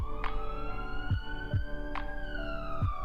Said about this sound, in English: an ambulance's siren can be heard in the distance